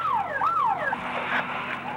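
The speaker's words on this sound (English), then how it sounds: "air raid alert sirens were sounding inside Saudi Arabia" A wailing air raid alert siren sweeps up and down in pitch in Saudi Arabia during the opening of the 1991 Gulf War, sounding clear and fairly near, then fading into a wash of broadcast noise.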